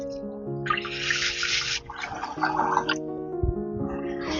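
Rice is swished and rinsed in water by hand in a kitchen, with sloshing, splashing bursts repeating closely, alongside a steady hum from the water.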